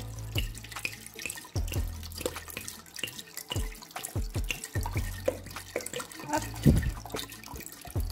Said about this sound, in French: Et vous mettrez la même contenance d'eau.